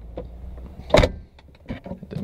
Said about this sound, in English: So we'll go ahead and close the door.